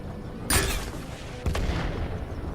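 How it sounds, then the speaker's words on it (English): Two heavy bazooka blasts in Worms WMD, the cartoon artillery game, each a sharp loud boom with a short rumbling tail, about a second apart over low background noise. "I think he's going to use a bazooka maybe."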